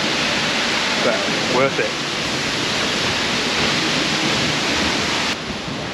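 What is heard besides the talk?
waterfall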